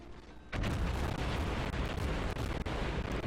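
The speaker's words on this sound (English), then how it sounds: "I know about where he is, so I fire that volley off." A warship's gun volley in the World of Warships video game, a sudden heavy boom that rolls into a dense, rumbling barrage and carries loud to the end.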